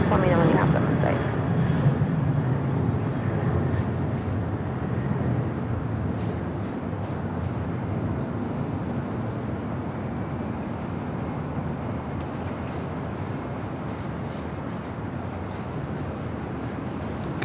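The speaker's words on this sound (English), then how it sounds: "East of you with a heavy 747 descending out of 3000." A heavy Boeing 747 descending toward landing at Los Angeles International Airport, a steady broad jet roar that stays loud and fairly constant throughout, with faint radio-like voices mixed in beneath.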